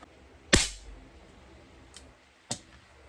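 An air rifle fires Air Arms 16 pellets at an outdoor range: one sharp, loud shot, then a faint click, and a second crisp shot about two seconds later.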